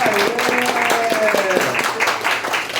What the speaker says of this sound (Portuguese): primeiro salve de palmas